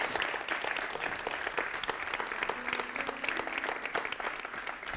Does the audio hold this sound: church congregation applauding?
yes